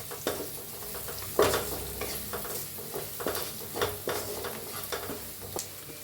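Browned onion fries in oil with turmeric and red chili powder for methi besan, a steady close sizzle punctuated by repeated spatula scrapes and stirring knocks.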